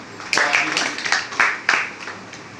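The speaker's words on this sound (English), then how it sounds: "Clap to both of them." A few people clapping unevenly in a room at a debate competition, scattered sharp claps in short bursts.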